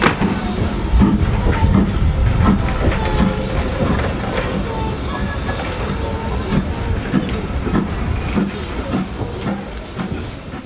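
A train rumbles steadily through Corfe Castle station, with rolling wheel noise, scattered clicks and clanks, and a faint hiss throughout.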